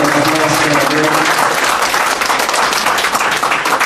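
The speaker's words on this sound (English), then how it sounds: "Let's give a big round of applause." A church congregation at an Easter Vigil gives a big round of applause, loud, close and sustained clapping filling the space, with a faint voice briefly audible at the start.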